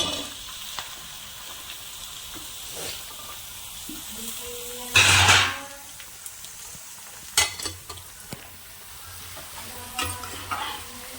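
Onion and green chili pieces dropped into a hot pan, a constant low sizzle with a sudden loud burst midway and a few sharper spatters and stirring scrapes after.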